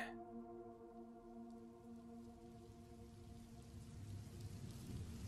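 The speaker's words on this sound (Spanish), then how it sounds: "Ocurrió durante una noche repleta de truenos y lluvia." Steady rain falls on a stormy night, a faint, even hiss with a soft low rumble underneath that grows slightly toward the end; no distinct thunderclap stands out.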